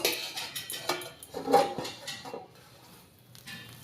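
A metal lid comes off a pan of palm-fruit cake cooked on a low flame, giving several sharp clanks and scrapes of metal on metal, fairly close, followed by quieter rattles.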